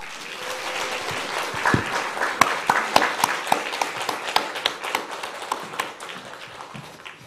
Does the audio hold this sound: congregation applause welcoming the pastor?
yes